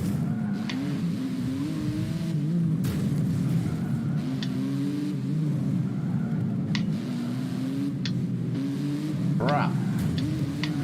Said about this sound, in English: Is this a Porsche I'm driving?